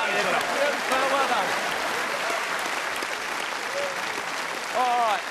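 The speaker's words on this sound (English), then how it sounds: "Let's give a nice round of applause." A TV game show studio audience applauds in a sustained, even wash of clapping, with a host's voice talking over it.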